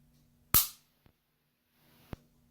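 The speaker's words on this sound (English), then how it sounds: "That's the trigger pull." Springfield Armory 911 pistol, cocked with magazine installed, gives a sharp loud trigger-pull snap, followed by a faint tiny tick and a second crisp click about 1.5 seconds later, in an otherwise quiet room.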